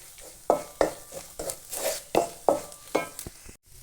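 Coriander and chili powder being stirred in a pan for kadala curry, a regular series of about eight close scraping strokes of a spoon against the pan over a faint sizzle.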